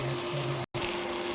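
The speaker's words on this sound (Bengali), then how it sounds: "খুব সুন্দর করে আলতো হাতে এভাবে করে নেড়েছে মোচাটা ভেজে নামিয়ে নেব" Banana flower fries and is gently stirred in a pan, producing a steady, close hiss of oil sizzling with only a momentary break.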